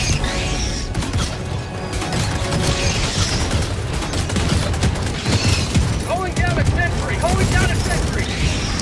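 Sentry turret firing in Helldivers 2, a dense rattling barrage of automatic shots mixed with crashes and booms, under overlapping voices and game noise.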